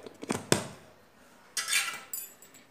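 A honey skincare mixture is stirred in a bowl, giving a few sharp clinks and scrapes of a utensil against the bowl, separated by quiet pauses.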